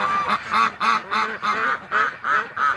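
A goose sounds a rapid series of about eight loud, nasal honks in an even rhythm, close by and with no other sound around them.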